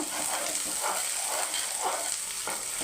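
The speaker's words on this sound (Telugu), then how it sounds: "ఉల్లిపాయ వేగుతూనే ఉంటుందండి ఇది వేగుతుంది కదా" Onion frying in a pan for egg fried rice, a strong, constant sizzle with rhythmic pulses of stirring about every half second, close and loud.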